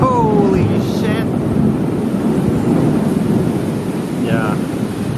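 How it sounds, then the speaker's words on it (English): Thunder rolls through a heavy rainy-day downpour in Bacolod, Philippines, a loud sustained rumble over steady rain with a voice briefly audible. "Oh, there's some more thunder or lightning."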